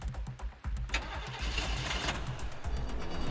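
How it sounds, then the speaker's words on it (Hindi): A car engine cranks and struggles without catching, a close, loud, continuous mechanical churn after a few brief bursts at the start. "काजल कार स्टार्ट करने की कोशिश करती है पर कार स्टार्ट नहीं हो रही।"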